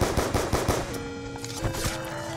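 Rapid automatic gunfire from the Black Ops 2 Zombies video game rattles loud and continuous, with dense bursts of shots throughout.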